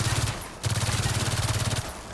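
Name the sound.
shock enforcer SMG firing in Gears of War 4 video game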